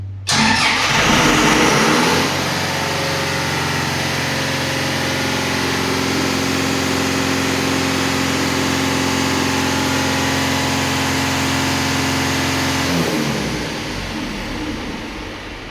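A Tornatech fire pump diesel engine cranks briefly on battery 2, catches and settles into a loud, steady idle close by, running evenly for about ten seconds before the sound fades toward the end.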